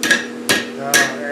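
Three sharp hammer blows on hot metal, roughly half a second apart, ringing close and loud as a blacksmith shapes a heart-shaped hook, with the hardy tool also used for shaping.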